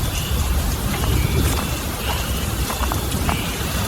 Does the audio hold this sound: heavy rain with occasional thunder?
yes